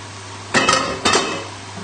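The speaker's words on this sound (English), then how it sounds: "tip the pasta into the pan" Cooked tagliatelle tipped into a pan holding bacon and mushrooms: two short, fairly loud clattering bursts of pasta and utensil against the pan, close by, then quiet.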